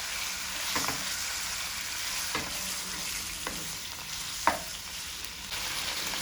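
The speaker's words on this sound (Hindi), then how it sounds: "चिकन को वाइट होने तक फ्राई करेंगे ताकि भुनाई अच्छे से हो जाए" Chicken sizzles and fries in a pan until it turns white, a continuous hiss broken by several soft stirring scrapes and one sharper clink, with no talking.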